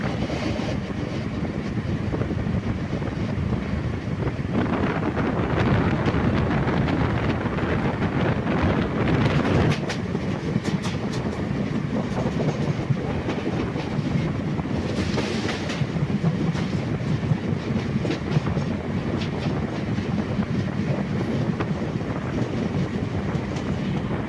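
A MEMU passenger train rolls along toward Changanassery station in Kerala, giving a steady rumbling ride with soft rhythmic wheel clatter and buffeting wind noise across the microphone, heard from inside the train with no voices.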